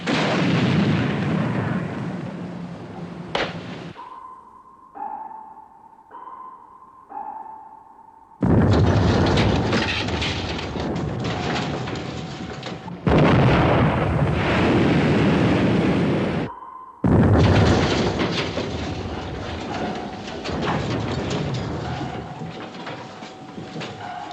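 Heavy naval weapons fire and explosions in a 1957 war film: loud booming blasts and roaring bursts dominate, broken by a quieter stretch of repeated pinging tones before the barrage resumes.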